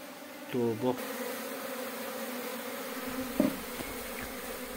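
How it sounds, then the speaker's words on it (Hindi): Apis cerana indica honey bees robbing and fighting at a hive in Himachal Pradesh fill the air with a steady close buzzing drone, with a few louder individual bees passing the microphone. "मधुमक्खी आपस में लड़ाई कर रही है"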